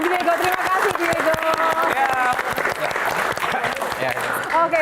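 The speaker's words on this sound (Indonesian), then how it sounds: "Oke, tepuk tangan untuk Diego." Applause from an audience, steady clapping throughout with voices and some music-like tones mixed in underneath.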